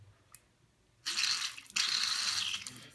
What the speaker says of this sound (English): And you hold this button down while you spray.